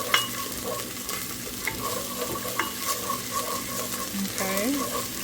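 Fresh basil sautéing in a pan for Italian meatballs gives a continuous sizzle with stirring scrapes, steady and fairly close.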